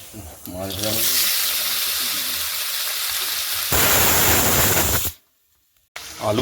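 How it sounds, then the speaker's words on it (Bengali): Potatoes and pointed gourd fry in a pan with a loud, steady hiss of oil that grows briefly stronger, then cuts to a moment of silence before resuming. "আলু পটল অল্প একটু ভাজা হয়েছে"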